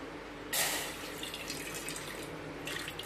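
Water pours and splashes into a pot for making tea in short bursts, close by, with a soft trickling between pours.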